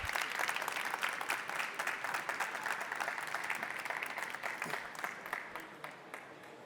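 Audience applause fills an awards ceremony stage at an electronics industry event, a dense wash of many hands clapping steadily for several seconds before tapering off slightly at the close.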